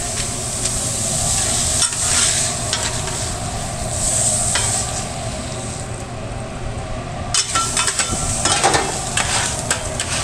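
French fries frying in hot oil in a food truck, giving a steady close sizzle and bubbling that runs throughout, with occasional clinks and stirring.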